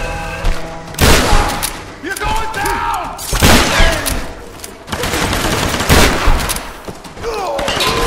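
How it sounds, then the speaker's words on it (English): A giant shotgun fires in a tomb-raiding video game, several loud booming blasts spaced a couple of seconds apart over game sounds, with a voice talking between shots. "I just shot you with a giant shotgun"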